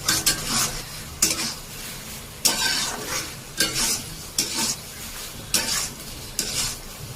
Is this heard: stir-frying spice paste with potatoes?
yes